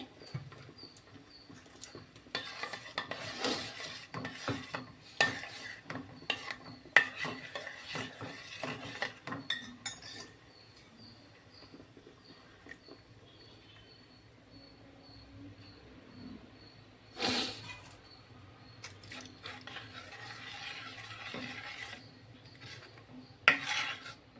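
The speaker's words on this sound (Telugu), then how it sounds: "ఇది మళ్ళీ ఇంకొకసారి ఇట్లా గరిటెతో కలిపేసుకొని ఇందులో యాడ్ చేసేద్దామండి" A ladle stirring a rice flour mixture in a pot, with irregular scraping and knocking against the sides in bursts, close by, a quieter stretch midway, and no voices.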